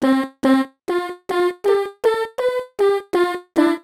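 Ten short chopped vocal notes play in a steady rhythm, each a layered, harmonically rich sung tone cut off sharply.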